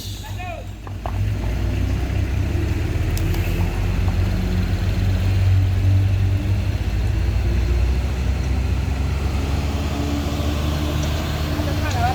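A heavy truck grinds up the steep Tanjakan Kedabuhan climb, its engine holding a loud, steady, low drone under the throttle while people talk nearby.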